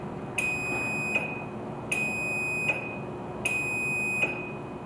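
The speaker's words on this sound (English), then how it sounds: "The opener beeps and lights flash slowly 5 times." A LiftMaster garage door opener gives three evenly spaced long electronic beeps, each lasting under a second, clear and moderately loud over a low background hum.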